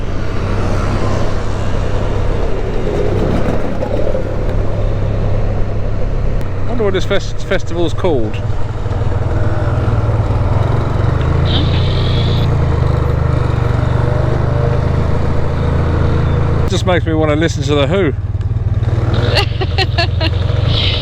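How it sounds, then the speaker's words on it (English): Many Vespa scooters riding at a large scooter rally, their small engines droning steadily nearby throughout with passing buzzes, under people talking. "They're all just out on little scooters as well."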